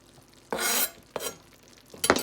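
Onions, green onions, thyme and ginger tossed into a pot of cooking Cassareep turkey, with three short bursts of hissing sizzle and stirring, the first longest, close up and without talk.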